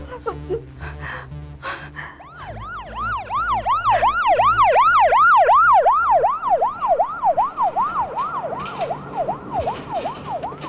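A wailing ambulance siren rises and falls in repeated sweeps, growing louder then holding, with faint background noise before it starts.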